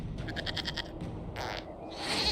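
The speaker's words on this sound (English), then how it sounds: "we discovered this man attacking the building with a" Goat bleating in Dragon Age: Inquisition, a short run of quick wavering bleats followed by a second brief cry, set against a low ambient game rumble.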